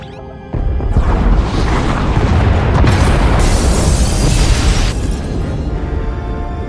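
A loud, sustained explosive roar as the pod bays blow apart in SWTOR, with a heavy rumbling boom that holds steady for several seconds before easing slightly, and no voices over it.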